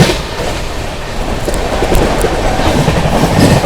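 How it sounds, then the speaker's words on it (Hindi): Mahabodhi Express speeding through Etawah Junction, a loud continuous rushing roar with rhythmic wheel clatter and occasional sharp high clicks, heard from aboard the train. "चलिए अपनी महाबोधि एक्सप्रेस स्किप कर रही है दोस्तों, यहाँ पर इटावा जंक्शन है"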